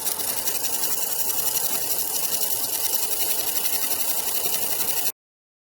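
Homemade ion drive with five radial electromagnets spinning, a loud, dense, steady mechanical buzzing whir held unchanged for about five seconds before cutting off abruptly.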